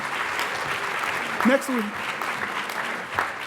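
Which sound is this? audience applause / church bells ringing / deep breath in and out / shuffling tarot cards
audience applause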